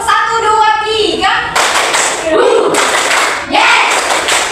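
A group playing a counting game claps in rhythm, with loud bursts of hand clapping following a voice speaking, and young voices mixed in.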